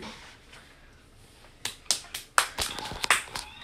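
Several hands clapping unevenly in a quick, scattered run of sharp claps, starting after a quiet stretch and continuing to the end at moderate loudness.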